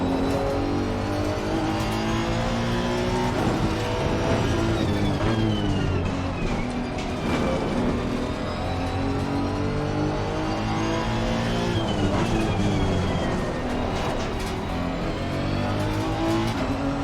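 Race car engines in a racing video game rev steadily and loudly, with rising and falling pitch as gears shift, and tires squeal now and then, sustained without pause.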